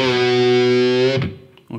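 A distorted electric guitar plays part of a riff: one loud sustained distorted chord rings for over a second, then cuts off, followed by a short muted scratch and a brief final stab.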